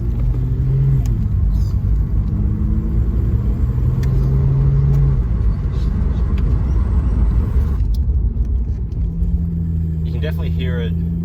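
A Ford FG Falcon fitted with a cold air intake drives and accelerates. Loud, close engine rumble and road noise run steadily throughout while someone talks over it.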